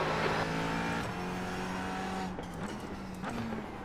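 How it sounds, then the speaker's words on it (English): A faster race car closes in during a racing video game at Interlagos. Steady engine drone with shifting pitch runs throughout, with gear changes and a hint of tire noise. "There's a faster car approaching."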